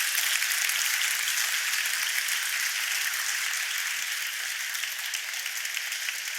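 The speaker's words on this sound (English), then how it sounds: "Give them a very big applause, please." Sustained applause from a conference audience at a women-in-tech panel, a dense steady wash of many hands clapping close and loud throughout, with no voices over it.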